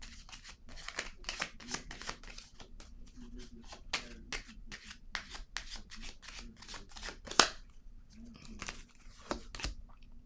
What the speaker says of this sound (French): Ici, je vais déposer une autre carte sur l'autorité à l'envers.